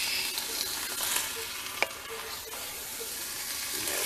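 Chili mac stirred in a hot pot, a continuous sizzling hiss with soft scraping strokes and one sharp clink of the spoon against the rim, close and steady, no talking.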